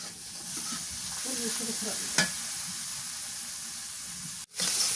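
Spice masala with green chillies fries in oil, giving a steady, moderate sizzle while being stirred, with a few soft utensil taps and a brief sharp click, then a short cut before the hiss resumes.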